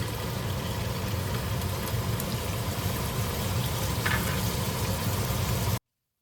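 Ground pork sizzles steadily in about a tablespoon of hot oil in a pan, a dense, even frying hiss with faint stirring scrapes that stops abruptly.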